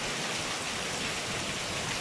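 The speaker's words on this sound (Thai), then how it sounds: "มันฝนเลย" Rain falls steadily outdoors during daytime shrimp trapping, a dense, even hiss of drops with no talk.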